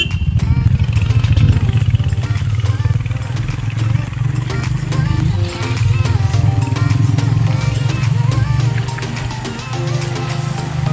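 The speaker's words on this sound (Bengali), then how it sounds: "আমাদের বাইক এখন এগিয়ে চলছে ফরেস্টের ভেতর দিয়ে।" A motorcycle rides along a forest road between Raiganj and Bijanbari toward Mirik, its engine droning steadily and fairly loudly throughout with a brief dip midway, mixed with wind and rattling.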